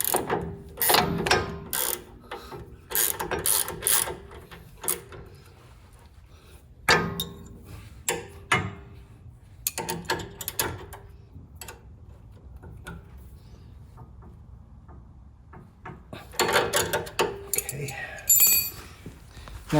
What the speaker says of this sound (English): we're going to place our gear wrench on the nut